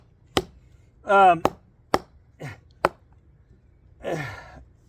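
Four sharp, isolated chops from a Microtech Arbiter knife striking wood, spaced about half a second apart, with heavy exertion sighs and grunts between blows.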